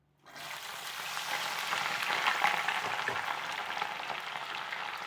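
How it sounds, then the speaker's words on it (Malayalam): Steady hissing sizzle of ginger, garlic, green chili and curry leaves frying in hot oil, starting abruptly and continuing close and even, with faint crackles throughout. "ഇനി നമുക്ക് ഇഞ്ചിയും വെളുത്തുള്ളി പച്ചമുളക് കറിവേപ്പിലൊക്കെ മൂപ്പിച്ചെടുക്കാം"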